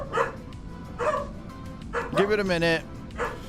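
Dogs barking and yipping in short bursts, with one drawn-out whimpering whine in the middle, close by and mixed with someone talking over them.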